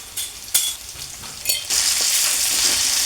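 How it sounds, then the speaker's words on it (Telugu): Ginger garlic paste fries in a hot pan, a loud hissing sizzle that swells suddenly and then holds steady, with a couple of sharp stirring clacks early on and no talk. "అల్లం వెల్లుల్లి పేస్ట్ వేసుకున్నాం కదా, ఇప్పుడు కొంచెం ఫ్రై చేసుకోవాలి మొత్తం అన్నీ"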